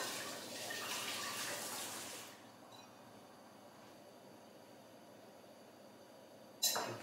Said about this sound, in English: Just wash my hands slightly.